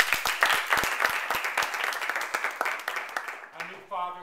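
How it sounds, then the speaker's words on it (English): An audience applauds with dense clapping that fades gradually over a few seconds, followed by a voice starting to speak. "If you agree, you may applaud."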